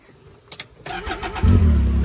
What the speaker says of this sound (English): let's fire this thing up